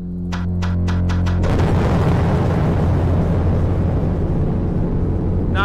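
A truck blows up in an indie horror chase game: a few sharp clicks, then a loud sudden blast at about 1.5 seconds that rolls on as a sustained roaring rumble with crackling debris to the end.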